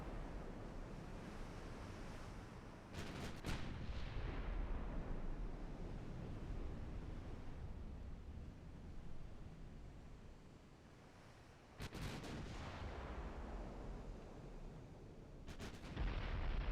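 Heavy battleship guns booming in Ultimate Admiral Dreadnoughts, three sharp salvo blasts spaced apart over a steady wash of sea and wind noise.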